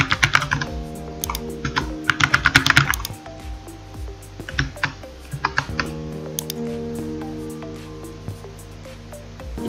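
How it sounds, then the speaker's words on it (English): Fingers type a message on a computer keyboard, first in a fast, loud burst of clicky keystrokes, then in sparser taps and short runs, close up and alone. "So let me type in some messages"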